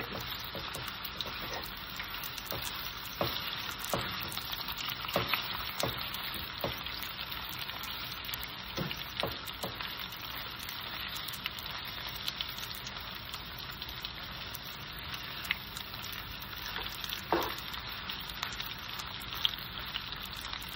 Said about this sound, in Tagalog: Prito lang natin siya konti.